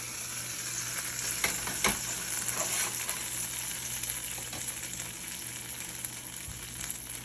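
Taco filling sizzling steadily in a pan, a constant close frying hiss with occasional stirring clicks and scrapes, no voices.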